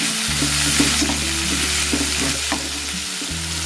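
Raw vegetables sizzle steadily in a hot pan while being stirred, with scraping strokes and a steady hum running underneath, close and loud.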